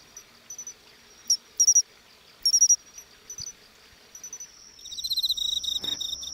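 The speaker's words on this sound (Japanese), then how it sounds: "コオロギが面白いですよね" Crickets chirp on an autumn night in short, scattered bursts that grow denser, ending in a fast, continuous trill. The sound is close and fairly quiet against a silent background.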